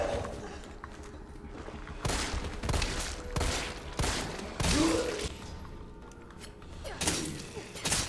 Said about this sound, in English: Acid round to soften them up, and then a few pistol rounds to take them down.